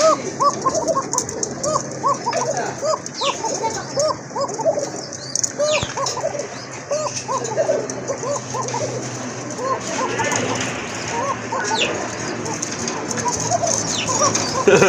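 A pair of Arabian Coca pigeons coo over and over in a steady, bubbling rhythm, close by, with other birds and soft background noise around them.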